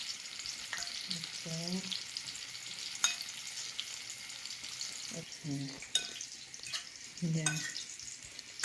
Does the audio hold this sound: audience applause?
no